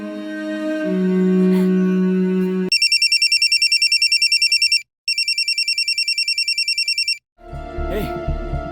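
A phone rings in repeated electronic bursts, pausing briefly between rings, after some low humming tones, followed by a muffled voice at the end.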